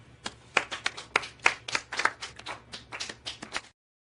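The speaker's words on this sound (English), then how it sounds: "Let's all start clapping." A small group claps by hand, irregular sharp slaps close to the microphone for several seconds with uneven rhythm, then stops abruptly into silence.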